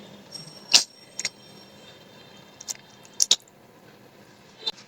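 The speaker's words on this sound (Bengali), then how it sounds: "এখন আমি এখান থেকে এরকম করে চিপে পানিটা জড়িয়ে নেব।" Raw mangoes, soaked and rinsed, are squeezed by hand through a cloth to wring out the water, giving a few brief, soft wet squelches with quiet gaps between them.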